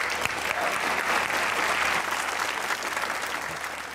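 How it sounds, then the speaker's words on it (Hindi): Studio audience of a talk show clapping for themselves at the close of an episode, a strong, even wash of applause from a crowd that gradually softens toward the end. "अपने लिए तालियां बजाइए"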